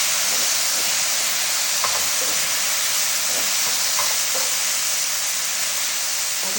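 Sandwich filling cooking with soy sauce in a hot pan, a loud continuous hiss and sizzle with faint stirring scrapes, no talking.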